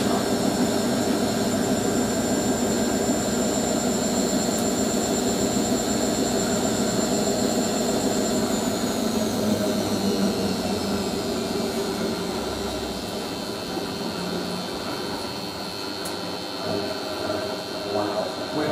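A 1980s washing machine running loudly, a steady droning whine with a tonal hum held near and constant, easing slightly toward the end, with voices faintly under it.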